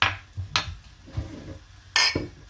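Glasses clink together in a cheers toast at a home table, with a few bright, close clinks spread across the moment and a low background murmur beneath them.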